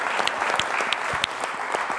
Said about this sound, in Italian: Un applauso, insomma.